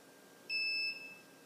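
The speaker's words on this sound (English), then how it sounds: "There's the first beep." A single steady electronic beep from an LTech T4 lighting controller during a zone reset, a clear tone lasting about half a second with a faint tail, alone over low room hiss.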